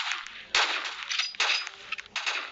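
Three sharp, loud gunshot blasts in a shooting video game, each with a short fading tail, spaced about a second apart.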